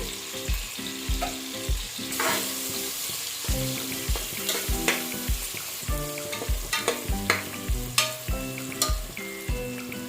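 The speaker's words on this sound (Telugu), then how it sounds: "ఇది కొంచెం వేగుతున్నప్పుడే అల్లం వెల్లుల్లి పేస్ట్ వేసుకోవాలండి" Onions with ginger garlic paste fry in a pan for soya chunk biryani, a steady close sizzle broken by frequent sharp spatula scrapes and stirring clatters throughout, with no talking.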